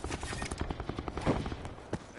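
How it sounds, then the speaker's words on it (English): Rapid bursts of gunfire from Call of Duty: Black Ops 4 Blackout crackle in a dense, continuous stream, with a louder shot standing out partway through. "Those gunshots sound even closer."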